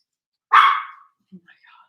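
A dog lets out one loud, close bark, followed by a few faint, brief sounds in an otherwise quiet indoor room.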